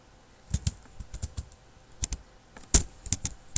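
Sharp keystrokes on a computer keyboard tap out in uneven bursts and short runs, close and clear, with brief pauses between clusters and no voices.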